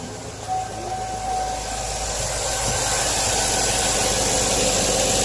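A 2001–2006 Chevrolet Tahoe engine idles just after start-up while a new oil pressure sensor is checked for leaks, a steady low hum with broad noisy hiss, gradually rising slightly in level, with no voices.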